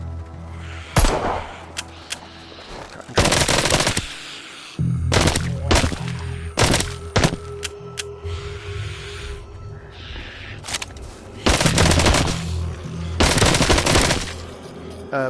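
Loud, close gunfire while shooting zombies in the VR game Arizona Sunshine: repeated single shots and rapid bursts over a continuous in-game background rumble.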